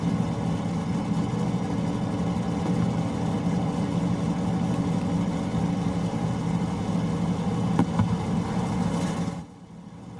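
Six aircraft engines idle together in Microsoft Flight Simulator, a steady droning hum with a low throbbing tone held evenly for about nine seconds before cutting off abruptly near the end.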